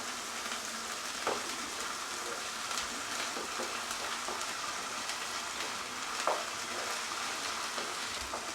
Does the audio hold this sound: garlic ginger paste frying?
yes